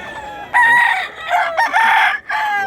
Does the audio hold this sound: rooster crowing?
yes